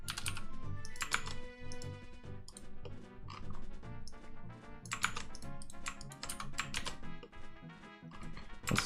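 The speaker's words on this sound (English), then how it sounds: "My keyboard goes clunk, this is true." Clunky computer keyboard typed on steadily for several seconds, a loud, close run of rapid clacking keystrokes with uneven rhythm and occasional heavier thumps, no voices.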